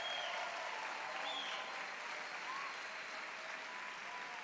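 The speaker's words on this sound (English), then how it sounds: "please, everyone, give a round of applause to our honored elected officials and candidates here today." Steady applause from a rally crowd, a dense even patter of clapping heard from a distance and fairly faint, with no speech over it.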